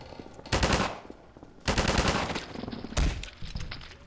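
Rapid automatic gunfire in Half-Life 2 aimed at a barnacle, arriving in three loud bursts separated by short pauses, close and dominant with no talking.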